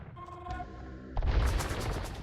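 Hand cannons fire in an Age of Empires-style real-time strategy battle, a burst of booming shots after a brief tonal game sound.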